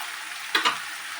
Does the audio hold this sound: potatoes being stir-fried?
yes